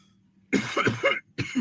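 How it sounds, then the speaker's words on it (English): Two sharp, loud coughs close by, a longer burst followed by a short pause and a second cough, with quiet room hum before them. "Pardon me, I had to cough."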